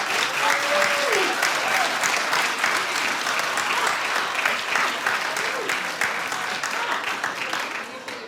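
Studio audience at a daytime TV talk show breaks into loud, sustained clapping that fills the room evenly, with a faint voice briefly audible beneath the applause.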